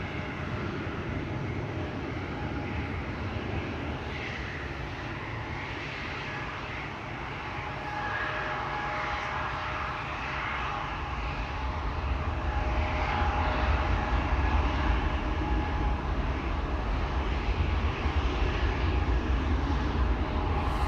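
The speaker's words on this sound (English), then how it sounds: "we have a 737 lined up that is ready to go to Istanbul in Turkey" A Boeing 737 lined up for departure to Istanbul at Amsterdam Schiphol hums with a steady engine drone that swells louder toward the end as it spools up, with no voices present.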